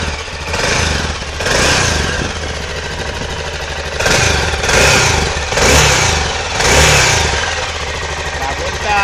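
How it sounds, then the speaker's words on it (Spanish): Aprilia Pegaso 650 motorcycle engine, well kept, running close by and revved in several rising bursts between steady idle, with a person talking over it. "El motor suena muy redondo."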